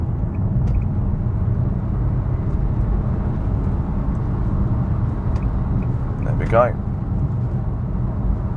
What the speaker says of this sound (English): Right, I'm going to overtake this Peugeot.